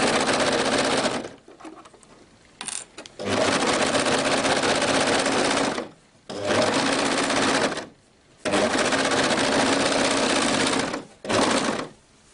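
A sewing machine stitches a raglan sleeve seam on a homemade hoodie, running loud and close in several long bursts of steady mechanical whirring separated by short pauses.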